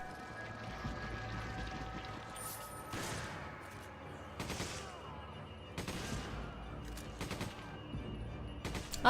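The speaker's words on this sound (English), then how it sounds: "Guys, we're gonna test the gun." Gun test-fired in Resident Evil 5, a series of sharp, separate gunshot bursts at irregular intervals over quiet game ambience.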